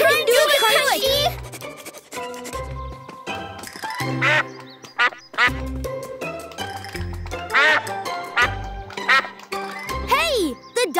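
Loud, repeated duck quacks in bursts, overlapping with excited cartoon children's voices talking close by.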